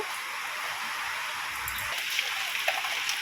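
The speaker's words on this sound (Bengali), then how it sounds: "এই দেখো বৃষ্টি পড়তেই আছে পড়তে আছে কখনো জোরে হচ্ছে আবার কখনো আসতে হচ্ছে" Steady rain falls in a continuous hiss with occasional distinct drips and patters close by, no voices.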